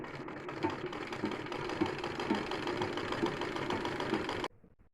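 A sewing machine runs in one steady close burst, stitching two salwar waist pieces together, with a continuous buzzing whir that stops abruptly near the end.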